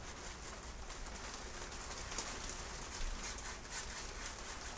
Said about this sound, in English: It's certainly raining today.